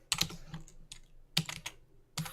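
Computer keyboard typed on while entering an array formula in a LibreOffice Calc spreadsheet, with irregular bursts of close key clicks separated by short pauses.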